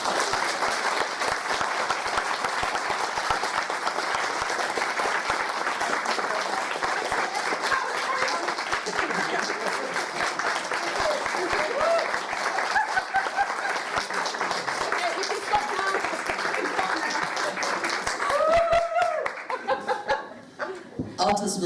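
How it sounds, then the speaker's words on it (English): Large keynote audience giving a big round of applause, dense sustained clapping with scattered laughter and chuckles mixed in, loud and continuous before tapering off near the end. "Can I have a big round of applause?"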